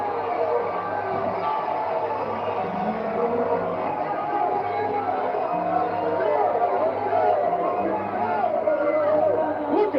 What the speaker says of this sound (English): The crowd is going bonkers.